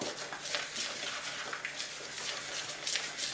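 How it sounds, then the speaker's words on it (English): A butter knife scrapes and clinks against a bowl while sultanas and other scone ingredients are stirred together, a steady close run of light scraping and tapping with no talk. "You're then going to take the knife that you use to butter your bread and just stir those bits together."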